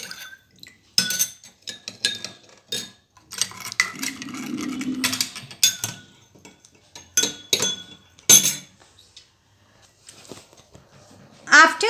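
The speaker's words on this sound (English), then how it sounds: "Mix it very well, all the 4 glasses." A spoon clinks and scrapes against four glasses of water holding salt, sand and rice in repeated rhythmic bursts, close up, with a voice speaking briefly in between.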